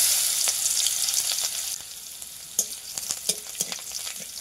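Crushed garlic frying in hot oil with dried red chilli and black cumin seeds, sizzling loudly and continuously up close, with sharper scraping and stirring clicks breaking in during the second half.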